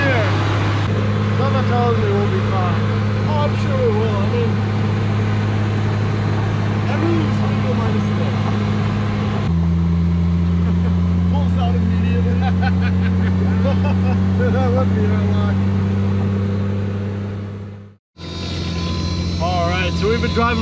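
A Toyota Supra MK3 drift car drives with a loud, steady engine drone heard from inside the cabin. The pitch shifts once midway and the sound briefly drops out near the end, with faint voices underneath.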